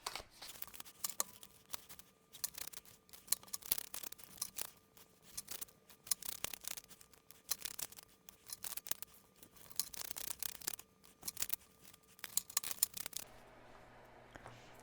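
Tarot cards are shuffled by hand, close up, in repeated riffling bursts and soft rubbing slides that run for about thirteen seconds before dropping away to near silence.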